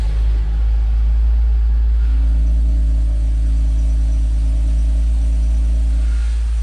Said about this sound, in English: So it's got a raspier tone while the valves are open.